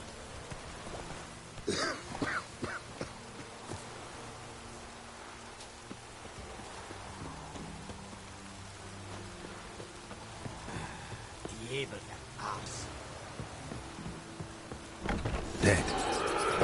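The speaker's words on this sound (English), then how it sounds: "Looks like rain." Steady rain patters across the outdoor world of the video game The Witcher 3: Wild Hunt, a soft continuous hiss with a few brief, sharper knocks and thuds rising above it.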